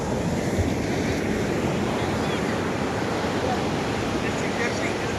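Sea waves wash steadily on the shore at Puthenthode beach near Chellanam in Kerala, a continuous broadband roar with wind buffeting the microphone and no distinct speech throughout.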